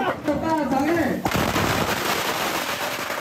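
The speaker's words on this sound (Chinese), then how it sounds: "居民也不甘示弱，点燃鞭炮还击" Firecrackers burst in a rapid crackling string during a street clash between residents and police at a demolition site, loud and close, with a voice shouting over the start.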